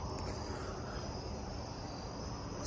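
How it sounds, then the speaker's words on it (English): Crickets chirp outside a hotel at 2:30 a.m., a faint, continuous high trill over a dense, noisy outdoor background, with no voices. "So many crickets,"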